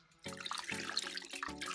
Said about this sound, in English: And then I'm gonna pour some of that juice